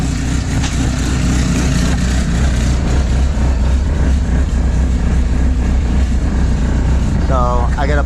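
A car with a freshly rebuilt motor idles steadily and loudly throughout, a constant low rumble with people talking over it.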